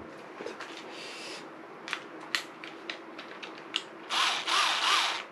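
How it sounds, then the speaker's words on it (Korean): An electric screwdriver loosening a bolt on a carp-fishing rod stand gives several short whirring bursts near the mic, then a longer, louder run toward the end. "전동 드라이버로 이렇게 볼트 하나를 이렇게 떼면은 이제 열리는데"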